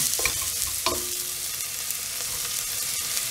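Onion and mixed vegetables, beans among them, frying in a pan for chicken fried rice, with a steady close sizzle and a few sharp scraping stirs of a spatula, no voices.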